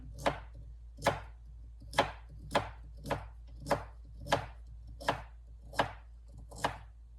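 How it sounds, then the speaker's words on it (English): A knife chops carrots and onions on a board for chicken soup, about ten crisp, evenly spaced cuts ringing out one after another at a steady rhythm in a quiet room. "And I'm sorry for the noise of the chopping."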